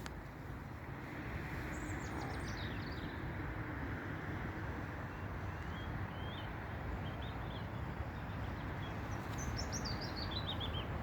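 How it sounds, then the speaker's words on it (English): Small birds chirp and trill faintly at a distance over a constant broadband outdoor rumble that stays level throughout. "even the birds sing"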